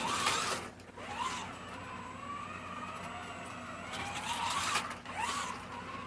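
A Scalextric digital Camaro slot car runs laps on its track, a steady whining motor that swells and fades as it passes near, with brief tyre-squeal-like sweeps as the car fishtails through corners.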